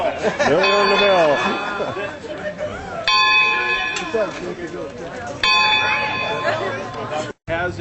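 Bells on the rooftop of an old firehouse ring out loudly at an outdoor ribbon-cutting event, with clanging strikes in bursts and a crowd chattering beneath.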